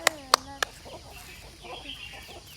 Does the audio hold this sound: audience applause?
no